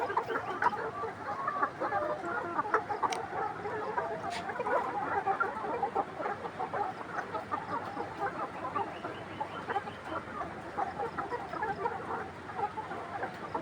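Caged chickens cluck steadily at feeding time, a dense, continuous chorus of overlapping clucks with a few sharp clicks, moderately near and without talk.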